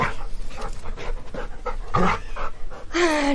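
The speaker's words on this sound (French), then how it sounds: "Non, le chien." A dog pants rapidly and close by, with a brief whimper partway through, and no voices over it.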